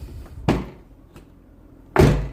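Two sharp, loud door thuds on a Lotus Evora S, spaced about a second and a half apart with a faint click between them, close by and with no talk.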